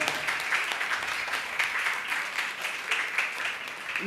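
Steady crowd applause fills a church youth gathering, a dense even wash of clapping with no breaks throughout.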